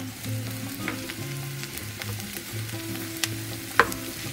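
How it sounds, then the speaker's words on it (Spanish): Mushrooms added to softened onion frying in a pan, a steady close sizzle with light stirring scrapes and a couple of sharper clicks, with no talk. "Ponemos nuestros champiñones."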